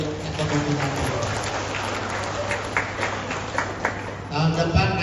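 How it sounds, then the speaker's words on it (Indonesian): An audience at a national seminar on education, law, economics, science and technology breaks into a sustained burst of clapping, with a speaker's voice over the crowd and the clapping swelling again near the end. "Tepuk tangan dulu untuk ekonomi dan bisnis."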